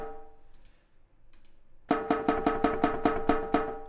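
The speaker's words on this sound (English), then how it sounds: "A good way of demonstrating it is to have a listen to this rim sound." A drum rim sound from Steinberg Groove Agent 5 plays as a series of sharp, evenly spaced clicks, about eight hits in quick regular rhythm. A few fainter ticks come before it.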